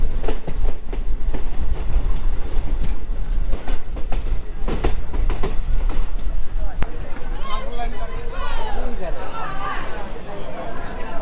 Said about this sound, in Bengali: ট্রেন এখন চলে আসলো পলাশীতে, আরও একটি গুরুত্বপূর্ণ স্টেশন।